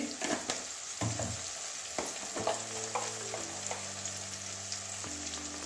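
Cumin and ground spices sizzle and crackle as they sauté in a pan for a Bengali snail and spinach curry, a steady broadband hiss with a few scraping stirs and a low hum underneath.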